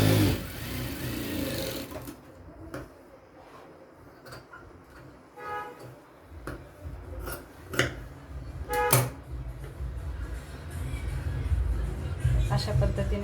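A sewing machine stitches a square katori blouse in short bursts of rapid mechanical ticking and whirring, separated by pauses with handling clatter, at moderate level close by.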